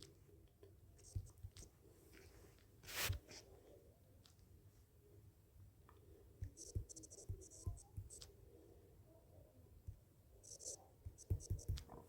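Handwriting with a pen on paper during a study lesson, soft scratchy strokes in short bursts with pauses between them, quiet and close, with a faint breath or murmur now and then.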